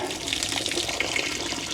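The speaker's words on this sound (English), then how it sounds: "I'm gonna turn on the water" A water tap runs aboard a power boat cruising the Bahamas, giving a steady, close hiss of flowing water into a sink that lasts throughout with no talk.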